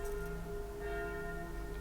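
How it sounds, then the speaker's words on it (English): Church bells ring steadily in the distance, their sustained tones humming behind a quiet indoor room with no talking. "you can probably hear the church bells and the crows"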